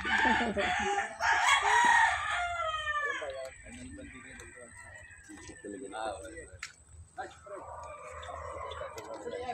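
A rooster crows loudly near the start in a bonsai garden, followed by softer clucking and a person talking in the background.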